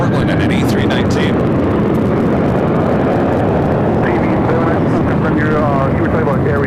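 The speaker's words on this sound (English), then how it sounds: "Delta Airlines Flight 2975 coming in from Portland at an A319." A Delta Airlines Airbus A319 landing at LAX makes a loud, continuous broadband roar of jet engines that fills the scene throughout, with a brief whine rising and falling toward the end.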